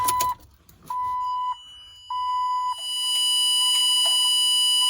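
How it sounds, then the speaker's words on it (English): A series of electronic beeps, one long tone followed by several shorter ones, and then a steady continuous tone, loud and clear. "First thing we're going to do is hear the beep."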